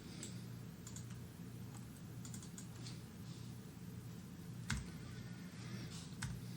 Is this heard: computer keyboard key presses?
yes